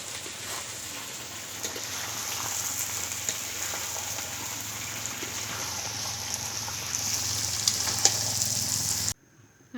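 Chicken with garam masala powder is stirred in a hot frying pan for biryani, giving a continuous close sizzle with faint scraping that grows slightly louder before cutting off abruptly near the end.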